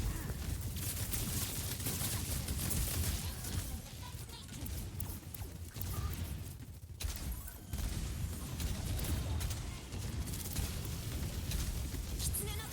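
Rapid, sustained gunfire from many players shooting at once in an Overwatch competitive match, dense and continuous with brief lulls, mixed with ability effects.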